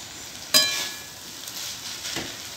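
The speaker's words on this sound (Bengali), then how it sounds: "থোড়টাকে এরকমভাবে নাড়িয়ে চাড়িয়ে আমি ভালো মতো রান্না করে নিচ্ছি।" Banana stem being stirred and cooked in a pan, with a short sharp scrape and sizzle around the half-second mark and a softer stir later over a quiet, steady frying hiss.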